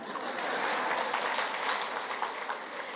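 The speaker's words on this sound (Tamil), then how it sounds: "இப்போ நீங்கள் இங்கே கை தட்டுறீங்கல்ல அதே மாதிரி அவங்க கை தட்டினாங்க" Audience at a Tamil public talk applauding, a steady dense clatter of many hands clapping throughout, fairly close and loud, with no talk over it.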